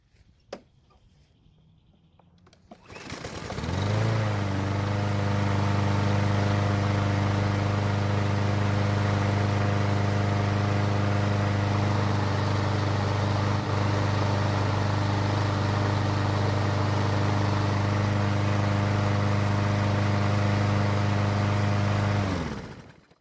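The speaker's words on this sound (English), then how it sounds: "I'll pour it back into the engine for a test start" After a few quiet seconds a small Troy-Bilt lawnmower engine sputters to life, then runs loud and steady at a constant pitch until it cuts out at the end.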